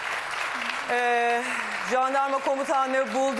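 A studio audience applauds on a Turkish daytime talk show, a steady clatter of clapping running under continuous talking from the host.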